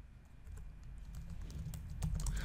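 Close computer keyboard typing: a continuous run of soft, irregular key clicks over a low steady background hum, growing slightly busier toward the end.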